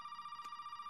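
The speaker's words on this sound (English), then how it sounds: "The phone's ringing." A telephone rings steadily in the Resident Evil 7 video game, a continuous electronic trill that runs through the whole moment at a constant level, with no voices.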